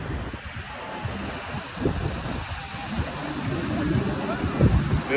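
Wind on the open beach at Daytona, buffeting the microphone in a constant low roar that swells and gusts, with surf and faint voices mixed beneath.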